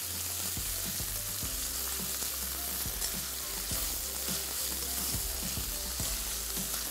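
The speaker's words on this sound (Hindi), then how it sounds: "अब ये कीमा हमने इसमें शामिल कर देना है और इसको थोड़ा सा मिक्स करेंगे अच्छी तरीके से।" Minced meat fried and stirred in a hot pan, a dense continuous sizzle with a steady low hum beneath and regular soft knocks of the spoon mixing, close up with no talking.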